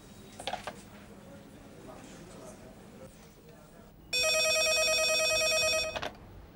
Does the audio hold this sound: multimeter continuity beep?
no